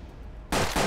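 Burst of gunfire in the turn-based western tactics game Hard West, cutting in abruptly after a quiet stretch with a loud, dense crack and a brief dip before a second blast.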